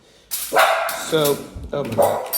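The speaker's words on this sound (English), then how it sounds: "Please excuse my dog." A dog barks loudly a few times nearby in a home kitchen, with short yips mixed in, overlapping a person speaking.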